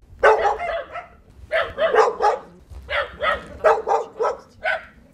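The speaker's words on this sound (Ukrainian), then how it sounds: "вдень і вночі лунає гавкіт собак" Several dogs barking repeatedly in a garage area, sharp close barks coming in irregular bursts with short pauses, some higher yips mixed in, no talking.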